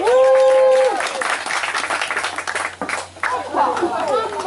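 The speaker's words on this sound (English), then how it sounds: "Give them a round of applause." An audience at a wildlife show in the Everglades Safari Park claps, a dense patter of applause heard close, while a voice talks over it throughout.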